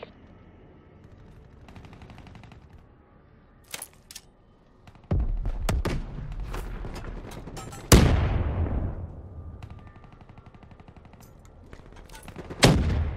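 Weevil assault rifle bursts in Black Ops 3 multiplayer on the Metro map: several rapid automatic volleys, loud and close, separated by quieter gaps with faint game sounds and echoing tails.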